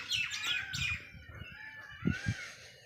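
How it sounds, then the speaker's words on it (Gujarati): Several birds chirp and call in short bursts, with a few harsher squawks later on, moderately close against a quiet outdoor background. "પક્ષી કલરવ કરે છે"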